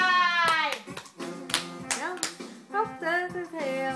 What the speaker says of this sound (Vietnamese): vỗ tay.